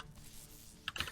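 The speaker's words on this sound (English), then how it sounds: "You can hear me typing." Fingers tap a computer keyboard in a few quick, close keystrokes at the end of a quiet stretch, with no talk over it.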